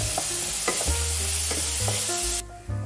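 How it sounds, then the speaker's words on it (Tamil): Tomatoes fry in a pan for a potato and spinach dish, with a steady close sizzle and repeated scraping strokes of a spatula stirring against the pan, cut off abruptly near the end. "இந்த தக்காளியும் நல்லா மசிஞ்சு வர அளவுக்கு நம்ம இதை ஃப்ரை பண்ணி எடுத்துக்கலாம்."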